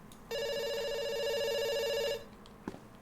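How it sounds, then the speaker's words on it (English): A single telephone ring tone on the line, a steady buzzing trill lasting about two seconds, loud and close, followed by quiet and a small click. "It's ringing."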